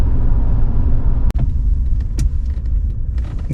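A 1991 Mercedes 560SE W126 cruising at its top speed, heard from inside as a steady, loud low road and engine rumble with a few sharp clicks and rattles, and no talking.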